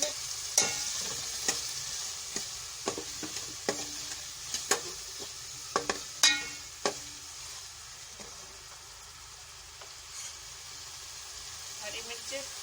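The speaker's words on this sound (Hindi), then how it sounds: "हम टमाटर डाल देंगे।" Tomatoes frying in masala for kala chana, with a moderate sizzle under repeated sharp clinks and scrapes of a spoon stirring against the pan, and a voice speaking at times.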